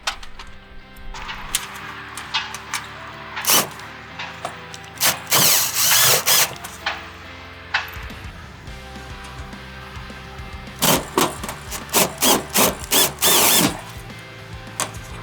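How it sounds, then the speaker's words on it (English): A power drill drives screws into the rib of an aluminum banner frame, several short whirring bursts with ratcheting clicks between quieter handling noises, loud and close. "this one lands right on the rib here, so we can screw that right in"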